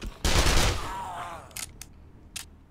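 Gunfire aimed at a biker zombie in 7 Days To Die: one loud, sustained burst of shots up front, followed by a few sharper, scattered shots that trail off quieter.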